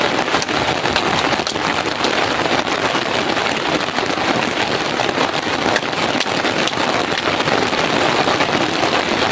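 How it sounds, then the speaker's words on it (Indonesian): Heavy rain pours steadily at night over an outdoor cooking spot on a forest fishing and fern-foraging trip, a dense, loud, unbroken hiss of drops drumming on surfaces with no letup. "Hujannya lumayan lebat teman-teman."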